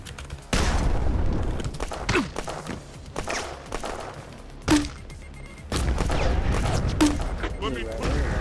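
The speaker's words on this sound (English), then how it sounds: "Grenade!" In a boomer shooter game, a heavy grenade blast booms out amid irregular bursts of gunfire and sharp impacts, loud and close, with a speaking voice heard among the shots.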